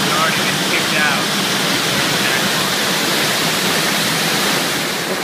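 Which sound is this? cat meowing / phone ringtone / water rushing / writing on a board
water rushing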